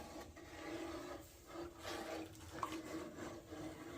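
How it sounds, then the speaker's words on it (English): A flat-bottomed utensil scrapes and rubs through rice pudding as sugar is stirred in, a soft continuous wet scraping in slow strokes, close and fairly quiet. "So get that sugar stirred in."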